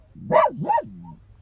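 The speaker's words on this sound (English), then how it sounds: "Sharpie is barking at another dog in another car." A dog barks from inside a car at another dog in a nearby car, giving two loud, close barks in quick succession followed by a fainter whine.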